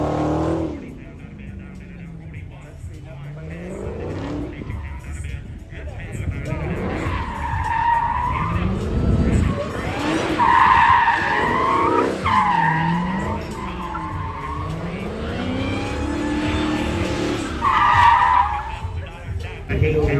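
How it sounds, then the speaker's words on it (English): Tires squeal in long, wavering screeches as cars drift and rev nearby at a classic and muscle car auction event, engines roaring loudly for the whole stretch, with voices faintly underneath. "As you hear the drifting and tire burning behind me."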